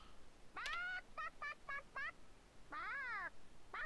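A World of Warcraft chicken emote: a string of short, chirpy synthetic clucks from a game character, one longer squawk, then another clipped cluck, loud and close with no talking.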